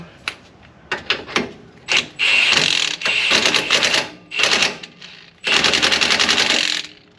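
An impact gun on its lower setting tightens suspension bolts while a Panhard correction kit goes onto a lifted GX470, 4Runner or FJ Cruiser. It fires in short rattling bursts, then in longer sustained runs, close by and loud.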